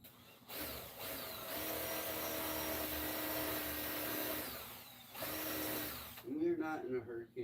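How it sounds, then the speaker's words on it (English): A power drill bores holes during a home repair job, running in steady sustained bursts with a short pause between them, fairly close and loud, followed by someone speaking. "So I'm gonna drill 3 holes on each side here."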